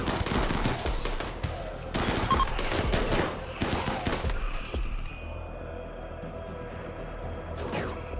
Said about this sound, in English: Just keep firing. Just keep shooting, just keep shooting.